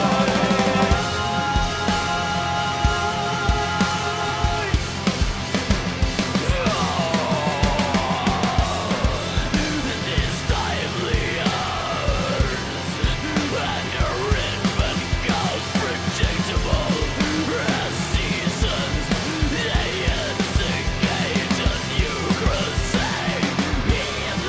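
A harsh, sustained black metal vocal scream builds and holds over dense, loud distorted band playing with pounding drums, continuous and full for the whole stretch.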